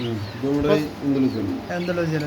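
A pair of fancy Andalusian pigeons sitting on an egg coo close by, giving a run of soft, repeated throaty coos with brief pauses between them.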